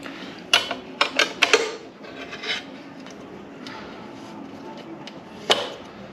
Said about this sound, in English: Now I've tightened that all the way up